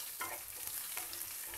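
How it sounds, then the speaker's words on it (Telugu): Green chillies fry in a pan with soft, faint sizzling and a couple of brief stirring scrapes, quiet and close with no voices. "పచ్చిమిర్చి వేసుకుని వేయించుకుంటున్నా"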